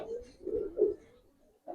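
Palla line gribaz pigeons in a loft give soft, low cooing in a few rounded pulses, faint and close, with a short pause before one last coo.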